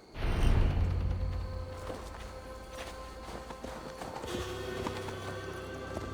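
Horse hooves in Assassin's Creed Valhalla, a rider crossing an untamed forest, give a steady soft clip-clop against a rumbling bed of ambience and wind, loudest at first and then settling to a continuous muffled tread.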